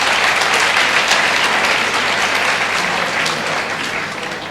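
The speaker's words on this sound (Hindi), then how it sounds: "उनके लिए तालियां बजाएं।" Steady, dense applause rises from a large audience at an academy felicitation ceremony, sustained and even throughout with no talking.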